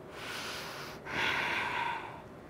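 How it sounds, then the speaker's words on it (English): Steady breathing during a yoga bridge pose, a soft airy exhale swelling after a brief pause, close and fairly quiet with no talk. "Breathing."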